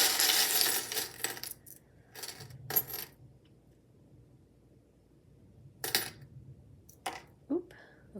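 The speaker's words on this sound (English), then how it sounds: "So we'll start with getting the charms, some cards, and then we'll dive into your past life." Small charms are tossed onto a table for a card reading, giving a few scattered light clinks and clatters, quiet and close, with long silent gaps between them.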